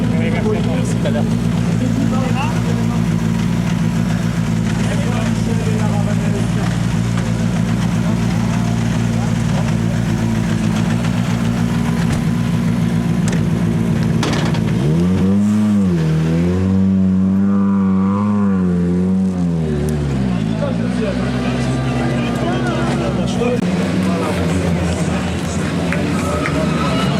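Rally car pulling up to the podium at the Lyon Charbonnières rally, its engine idling loud and close under a continuous crowd announcer, then revving and dipping in pitch before settling back to a steady idle.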